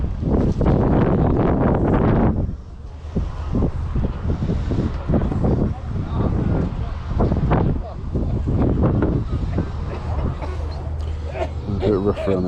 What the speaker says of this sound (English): Very windy here on the Fylde coast.